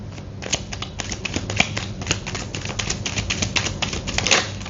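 Tarot cards are shuffled and laid out, a dense run of crisp, rapid flicks and snaps, close and steady throughout.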